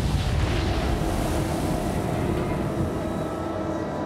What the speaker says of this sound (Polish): To największa eksplozja jądrowa, jaką widział świat.